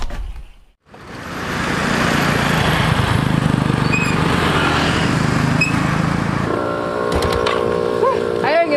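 A motorcycle engine runs close by in a steady, buzzing drone for several seconds, then fades as people chatter and other noises take over toward the end.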